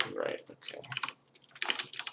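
A cat walks across a computer keyboard, setting off bursts of rapid key clatter in irregular clusters that stop and start, close and fairly loud.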